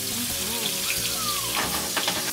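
Turkey frying in a pan with garlic, thyme and butter while being basted, a dense steady sizzle with spoon clinks and stirring sounds up close.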